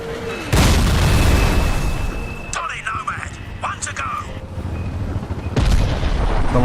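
C4 explosive detonating in a PC shooter game: a loud, deep boom at the start with a long rumbling tail, then scattered crackling impacts and a second heavy blast near the end, with someone talking over it.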